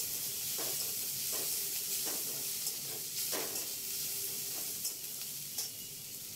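Chopped onions sizzle steadily in hot oil in a pan for a soyabean burger filling, a continuous close hiss broken by several sharp stirring scrapes and crackles throughout.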